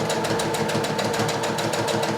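A sewing machine stitches a faux welt pocket seam, running continuously with a rapid, even mechanical clatter of needle strokes, close and steady throughout.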